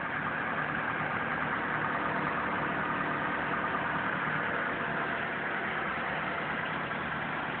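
A 2015 Toyota RAV4 Limited idles steadily while warming up, a continuous low even engine hum throughout with no other sounds.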